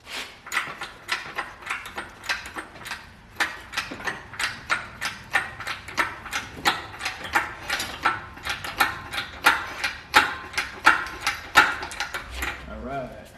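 Ratchet clicking in rapid repeated bursts while motor mounts are bolted to a big-block engine for a 1988 Mustang GT drag car swap, close and fairly loud, with a few louder metallic clacks and speech tagged faintly in the background.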